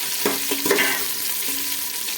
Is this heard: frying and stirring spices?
yes